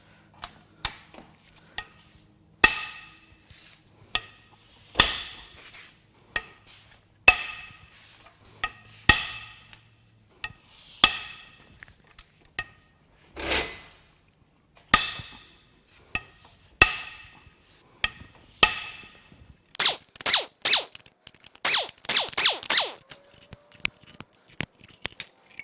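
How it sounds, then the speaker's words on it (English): Sharp metallic cracks and clicks as a wrench breaks loose cylinder head bolts on a blown Dodge Pentastar 3.6 V6 from a Charger, a series of close, separate snaps with a brief rattle near the end. "Now we can crack these head bolts loose."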